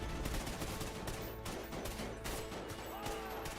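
Rapid automatic gunfire in Call of Duty Ghosts, played on PS3, rattles in dense continuous bursts with a few brief gaps, loud and close.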